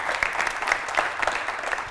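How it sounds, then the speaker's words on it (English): Audience at a business talk applauding speaker Ben Stickland of Alliance Software, brisk continuous clapping from a room of people, close and fairly loud with no talk. "can we have a round of applause for Ben Stickland of Alliance Software?"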